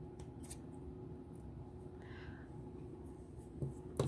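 Scissors cut through a bracelet in a quiet room: a low steady background, then a couple of soft, crisp snips near the end.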